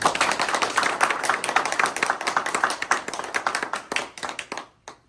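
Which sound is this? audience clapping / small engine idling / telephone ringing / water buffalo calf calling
audience clapping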